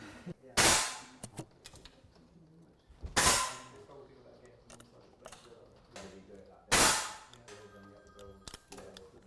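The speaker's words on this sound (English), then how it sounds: "just shot 10 shots" Three loud, sharp gunshots fired at a paper target crack at intervals, each with a short ringing decay, amid light clatter and background voices at an outdoor shooting range.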